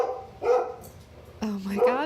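Pet dogs bark in two short bursts indoors, close and fairly loud, with a pause between them and a person talking nearby.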